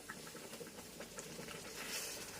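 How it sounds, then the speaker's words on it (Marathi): Boiling water poured into roasted semolina for sheera, a loud bubbling sizzle and steamy hiss with crackling patter, rising toward the end. "तर ह्या स्टेजला उकळतं पाणी घालायचं"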